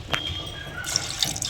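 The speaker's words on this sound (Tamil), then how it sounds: "இதுக்கு அளவாக தண்ணி விட்டு வேக வைக்க போகிறோம்." Water trickling and splashing into a pan of rinsed moong dal during cooking, a brief soft pour with light drips, close and fairly quiet.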